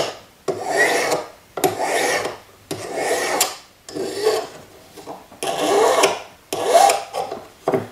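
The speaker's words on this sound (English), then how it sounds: "Get out of this wide file and then file all the way down. Even strokes." Metal file rasping across a small sword-shaped ring held against a jeweler's bench pin, in seven steady back-and-forth strokes, each a loud, close gritty rasp separated by brief pauses, with no talking.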